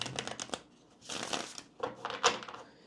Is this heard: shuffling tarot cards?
yes